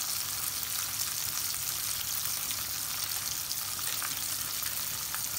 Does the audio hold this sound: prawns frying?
yes